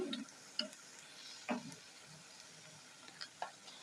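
Lentil fritters made from grass pea dal dropped one by one into hot oil over medium heat, a faint sizzle with a few soft clicks and splashes as each piece goes in.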